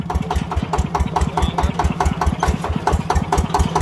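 A Yanmar 160 tractor's diesel engine idles steadily nearby, a fast, even chugging knock repeating throughout with no voices.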